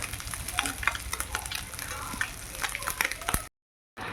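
Chopped vegetables sizzle steadily in a hot pan while being stirred, the loud frying continuing for several seconds before a brief break in the sound and then resuming.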